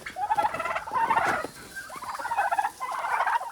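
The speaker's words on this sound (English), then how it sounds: "There's the turkeys." Turkeys on a farm gobble in repeated loud rattling bursts, several calls close by one after another with little else around them.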